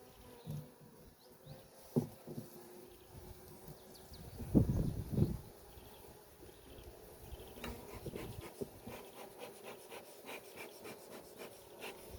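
Faint, steady buzzing of honeybees around hive frames, with occasional wooden rubbing and scraping nearby.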